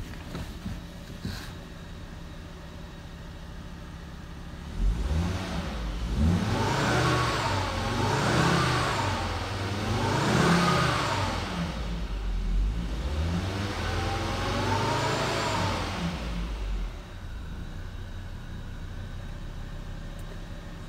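A 2009 Volvo S40 engine with 145,000 miles idles, then revs up and down several times in rising and falling surges before settling back to idle.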